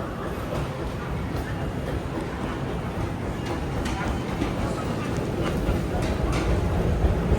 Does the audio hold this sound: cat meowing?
no